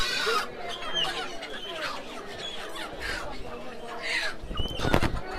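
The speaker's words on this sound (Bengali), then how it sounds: "এই পাশে দেশি মোরগ মুরগি বিক্রি হচ্ছে" Native chickens and roosters cluck and call at a busy riverside bazaar beside the Brahmaputra, with broiler stalls nearby; several short calls rise over constant crowd chatter and market bustle, and people talk throughout.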